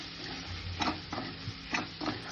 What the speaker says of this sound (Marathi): आता मीठ टाकलं आपण त्याच्यात मीठ टाकलं त्याला छान असं हलून घेऊ